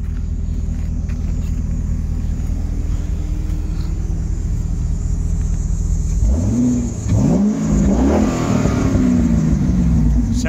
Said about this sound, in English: See if there's any way I can rev this thing up a little bit and let you guys hear it